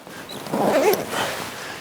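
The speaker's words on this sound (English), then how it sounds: "Pull the zippers down" Zippers on the sides of a fabric cover for an OpenRoad 270 awning pulled down in one short, fairly close rasping run, then a quieter tail.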